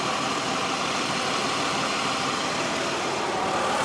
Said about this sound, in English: the most important part is the engine. And this does sound good.